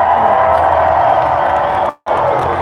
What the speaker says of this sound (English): let's hear you cheer!